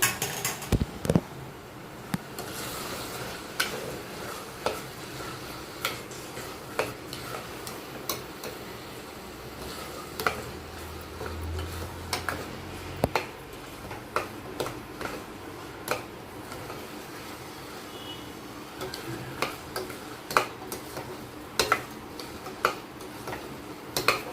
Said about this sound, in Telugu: ఆ బియ్యం వేసి ఒక టూ మినిట్స్ వేపాలి